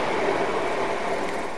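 A railtour train hauled by the Class B1 steam locomotive Mayflower stands at a station platform, giving off a steady, loud rumble and hiss with no break and no talk over it.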